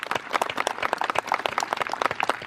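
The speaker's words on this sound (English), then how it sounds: "a round of applause for our musicians" An audience at a Memorial Day service claps for the band musicians, a moderately faint burst of dense, scattered applause that continues throughout.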